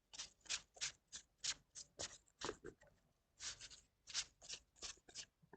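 Tarot cards being shuffled by hand in quick repeated riffling bursts, close and crisp, with a short pause midway before the shuffling resumes.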